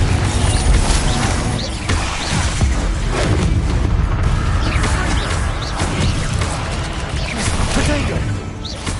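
Confringo explosive spell blasts in Hogwarts Legacy on PS5, a continuous barrage of booming, crashing impacts with dense game effects, loud and close, with a voice shouting spell names throughout.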